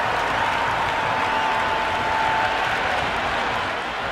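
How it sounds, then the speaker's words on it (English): A steady, dense roar of a stadium crowd cheering in a cricket video game, unbroken and loud throughout with no distinct claps or voices standing out. "It's the most enthusiastic crowd you could ever see right now. There's a buzz, a real buzz coming from the stands."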